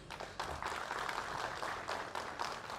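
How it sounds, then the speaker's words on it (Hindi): Audience applause at a Republic Day celebration held by an Indian embassy, a steady wash of clapping sustained throughout with small swells, moderately distant. "एक अच्छे से तालियों बजाइए प्लीज"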